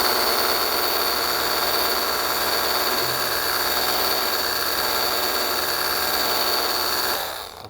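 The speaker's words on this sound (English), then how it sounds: "This is the 15 degree right here." A RYOBI EZ Clean 18V cordless pressure washer sprays through its 15 degree nozzle close to a car, a steady loud hissing rush that holds evenly for several seconds before cutting off at the end.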